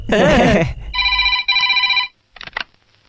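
A telephone rings twice in bright, even electronic bursts, close and clear, right after a brief burst of loud speech and music, then a short clatter as the phone is picked up, in a Hindi-dubbed South Indian film scene.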